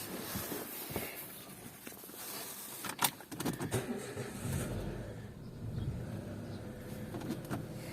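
A 2008 Renault Grand Scenic 2 with a 1.6 petrol/gas engine, running cold on petrol: clicks and a key jangle precede the starter, then the engine catches and settles into a steady, close idle with no talk.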